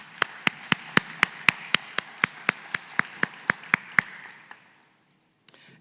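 Audience clapping for competition judges at a Bridging Innovation Week competition day: about fifteen crisp, evenly spaced claps in a steady beat, close and fairly loud, stopping abruptly after roughly four seconds, followed by near silence and one faint knock.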